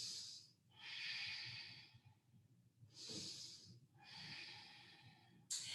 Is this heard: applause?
no